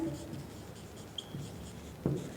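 Chalk or a marker scratches faintly across a board during a Class 7 maths lesson, with soft, intermittent strokes and a slightly louder tap near the end.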